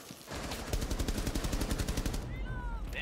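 Rapid bursts of automatic gunfire rattle loudly and continuously in a tactical shooter match, dense repeated shots close up over game ambience, with a faint voice underneath.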